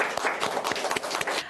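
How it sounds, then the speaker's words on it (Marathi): A small group claps at home after a young girl's dance, a quick burst of close, brisk handclaps lasting about a second and a half. "गार्गीसाठी टाळ्या आणि छोट्याशा ताईसाठी सुद्धा"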